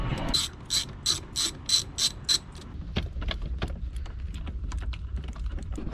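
A ratchet fitted with a T30 socket and an extension turns a bolt on a Honda S2000 steering wheel, giving about eight quick clicking bursts up close. Sparse mechanical ticks and taps follow.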